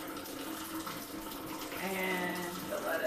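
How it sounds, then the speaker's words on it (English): Running tap water splashes over a pepper being rinsed in a kitchen sink, a steady close stream with slight shifts in tone as the pepper turns under it. "we'll go quick rinse with this pepper"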